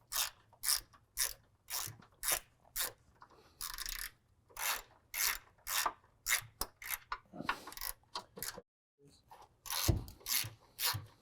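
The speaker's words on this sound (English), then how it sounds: "we're just going to start taking our bolts off" A ratcheting wrench loosens 13 millimeter nuts, giving rapid bursts of sharp mechanical clicking, repeated strokes near and fairly loud, with a brief pause before the ratcheting resumes.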